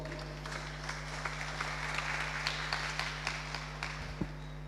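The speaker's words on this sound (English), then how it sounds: "Please give him a round of applause" A room of people applauding, a steady patter of many hands clapping at moderate volume over a constant low electrical hum.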